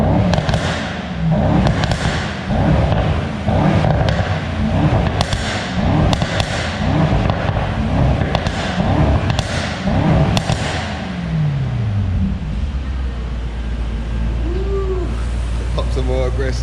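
A Mercedes E63S fitted with a race chip at a tuning shop blips its exhaust in about seven sharp rev bursts, each trailed by crackling pops and bangs, then settles into a falling rev-down, with voices occasionally audible.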